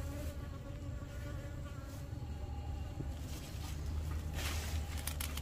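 Honey bees swarm around a large hive at the start of the flowering season, making a dense, steady buzz that holds throughout at close range with no talking.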